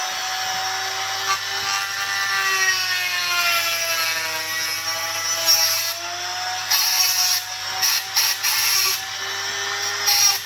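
A Dremel rotary tool cuts a gap into plastic on a Tamiya TT02 RC car part, a steady high-pitched whine with harmonics that dips and rises in pitch as the bit loads, running loud and continuous with brief scratchy bursts, no talking.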